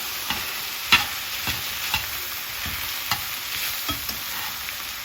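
Flour is stirred in a cooking pan over a quiet continuous sizzle, with a series of soft scraping and knocking strokes every half second or so, close by and without speech.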